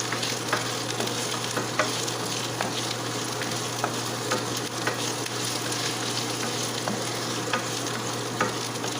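Vegetables sizzle in oil in a pan with a steady frying crackle and occasional light stirring taps, close and continuous without speech.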